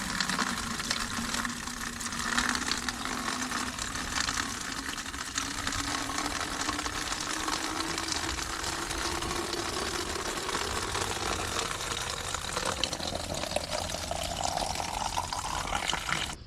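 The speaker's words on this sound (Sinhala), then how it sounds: "වතුර ටිකක් පුරව ගන්නවා." Water gushes steadily into a container from a tap or stream along the Pekoe Trail near Galaha in Sri Lanka, its pitch slowly rising as the vessel fills, loud and close with no talking.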